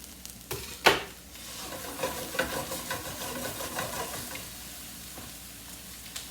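Bell peppers frying in a pan for shakshuka, a soft steady sizzle with a few sharper clicks and stirring taps near the start, no talking.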